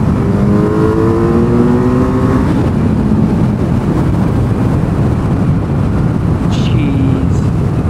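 A Suzuki Hayabusa motorcycle engine roars loudly and continuously, its pitch climbing through a rev and then dropping back, close and dominant over wind noise, with voices faintly present.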